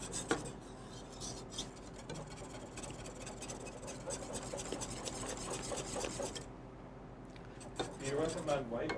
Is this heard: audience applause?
no